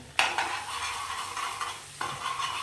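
Boiled potato tossed with chili powder in a pan gives a loud scraping stir at the start, then a steady sizzle with another sharp scrape near the end, with no voices.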